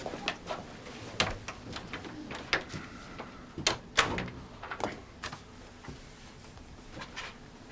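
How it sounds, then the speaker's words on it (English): An interior door closes with a few sharp knocks and thuds in an indoor police station room, fairly close and moderately loud, among other small clunks and movement sounds. "Come in, shut the door."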